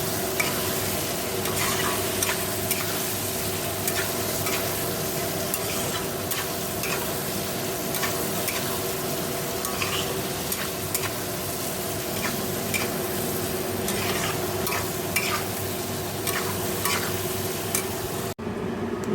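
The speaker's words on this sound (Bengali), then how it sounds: "আমি ফুলকপি আলুটা কষাচ্ছি।" Cauliflower and potato sautéing in a pan on a home stove, a continuous close sizzle with repeated scraping stirs running steadily throughout.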